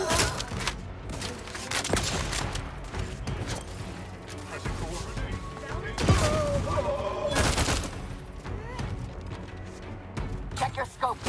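Rapid bursts of gunfire from the sci-fi shooter game The Outer Worlds 2, with sharp shots and impacts layered over game effects and mechanical clatter, while voices speak over the combat.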